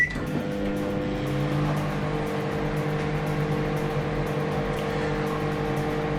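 A Samsung MS23F301TAW solo microwave oven hums steadily while running, a constant motor-and-fan drone with tonal buzz that stays even throughout, close by with no talking.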